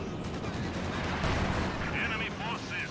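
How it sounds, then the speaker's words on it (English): Rattling MG34 machine-gun fire blends into a dense wartime battle in Company of Heroes 2, with tank and infantry combat around it; someone talks over the steady din. "MG34 right there, protecting the flank"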